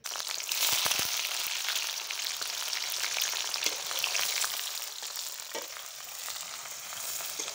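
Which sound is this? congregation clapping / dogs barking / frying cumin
frying cumin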